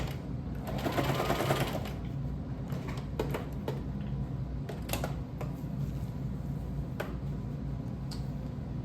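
A domestic sewing machine runs a straight regular stitch on fabric, a steady fast ticking hum that surges in the first seconds, then continues alone with scattered clicks.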